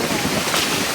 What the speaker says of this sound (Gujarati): પવન ઘોરાય બહુ છે